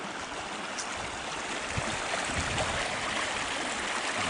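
Fast-running creek near a house, a steady full-band rush of flowing water that stays loud and even throughout with no voices.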